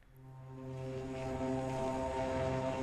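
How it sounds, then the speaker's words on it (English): Trailer-style synth bass patch called Aftermath from a sample library, a deep sustained tonal drone with strong harmonic overtones that swells in over the first second and then holds evenly. "So that's the bass sound that I'm using."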